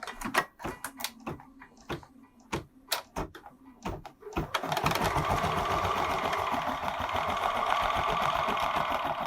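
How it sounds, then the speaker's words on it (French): A Bernina embroidery machine starts stitching after a few preparatory clicks and taps, then settles into a loud, steady, continuous rapid mechanical whir that runs unbroken to the end, heard up close with no talking. "Voilà, donc là la machine est prête à coudre. Je laisse mon pied et je lance la broderie."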